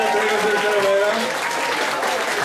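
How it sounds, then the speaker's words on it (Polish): Audience applause at a stand-up comedy show, a dense steady wash of clapping across the whole stretch with a voice briefly speaking over the start. "Wielkie brawa do tego,"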